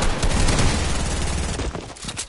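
Rapid bursts of gunfire from an SMG and other weapons in a first-person shooter video game, loud and dense, fading slightly toward the end, with no talking.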